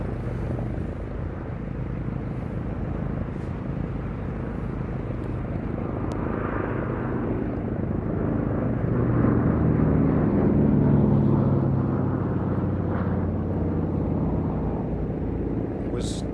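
Douglas C-47 Skytrain, also known as the Dakota, flying at a VE Day air show, its piston engines giving a steady broad drone that swells slightly as it passes, with faint background noise from the crowd.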